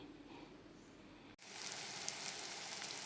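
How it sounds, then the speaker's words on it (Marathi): Fish cutlets coated in semolina frying in a pan, a steady bright sizzle that starts abruptly after quieter kitchen background and stays even and close. "आनी रवा लायता फ्राय करतलें"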